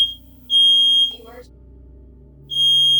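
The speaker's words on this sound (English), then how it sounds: "It's my smoke alarm going off." A home smoke alarm shrieks in loud, piercing high-pitched beeps, two long blasts separated by a pause, with faint talking beneath.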